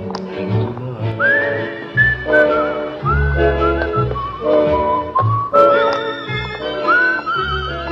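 Someone whistles a bright, wandering melody over a steady backing of guitar and bass, the whistle carrying clearly on top.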